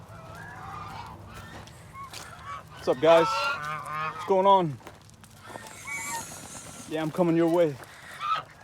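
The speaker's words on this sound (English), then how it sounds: "More geese." Several geese honk at a tropical plant nursery in repeated loud, nasal bursts, close by and a little uneven in rhythm, while someone talks casually between and over the calls.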